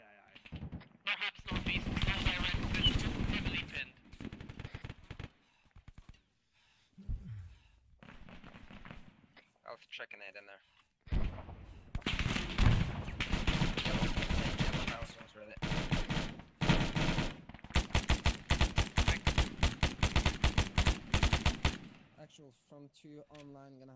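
Heavy gunfire in an Arma military simulation operation: bursts of automatic fire and single sharp shots, some close and loud, others more distant, in irregular clusters with gaps of quiet, while voices talk intermittently.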